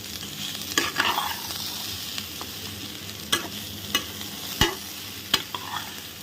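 Groundnut sundal with raw mango and a little salt being stirred and mixed in a pan, spoon scraping in irregular soft strokes with a few sharp clinks, close and moderately quiet.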